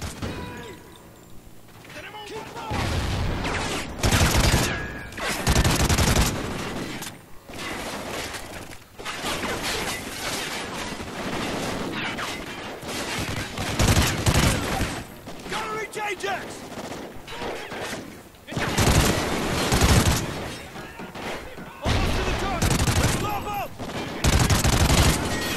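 Gunfire in the Call of Duty: Ghosts campaign, with repeated loud bursts of rapid automatic fire and single shots broken by brief pauses across the stretch.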